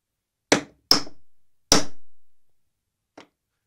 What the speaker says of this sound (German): 3 Hammerschläge, Junge